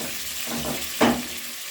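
Washed rice draining into a pot holding cooking oil: a steady wash of pouring water with a brief, louder splash partway through, close and fairly quiet.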